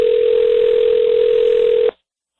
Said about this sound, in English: Eric, can you get her on the phone, please?